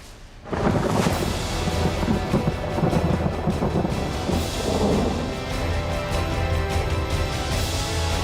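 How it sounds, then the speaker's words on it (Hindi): Heavy monsoon rain pours in Mumbai as a dense, loud continuous roar with deep rumbling underneath, setting in abruptly after a quieter opening and holding steady throughout. "मुंबई कल रात से शुरू हुई बारिश वहां पर रुक रुक कर अभी भी जारी है"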